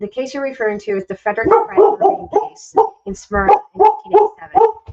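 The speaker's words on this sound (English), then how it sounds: "This dog is very loud." A dog barks loudly and repeatedly close by, its barks mixed in with a person talking steadily over it.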